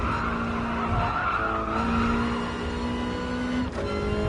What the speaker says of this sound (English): I hit the rev limiter, though.